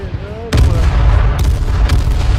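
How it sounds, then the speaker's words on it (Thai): Loud booming explosion from the game H1Z1 erupts after a brief lead-in, followed by a dense rumbling roar with a couple of sharp bursts on top. "ระเบิดระเบิดระเบิดแล้ว"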